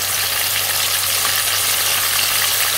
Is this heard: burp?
no